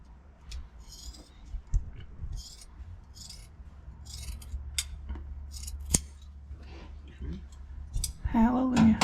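Scissors cutting interior upholstery on a 1959 Apache Custom, a series of close, crisp snips and scraping rubs with sharp clicks and shuffling between them, and a voice near the end.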